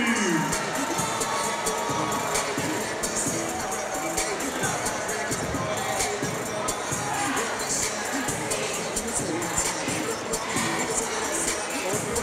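Basketball arena crowd at a men's game between SFU and UBC cheers and applauds loudly and steadily for the UBC cheer team, a dense roar of clapping and shouting with no pauses.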